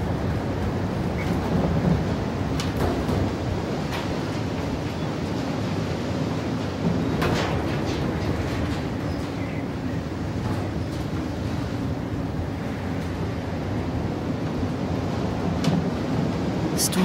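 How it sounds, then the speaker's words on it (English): Sandstorm wind in the video game Dark Days, a continuous roaring rush of gusting noise with occasional sharper bursts, steady and loud throughout with no talk. "The storm's not over yet."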